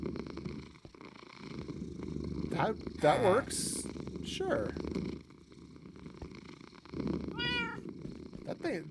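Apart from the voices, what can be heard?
domestic cat purring loudly while asleep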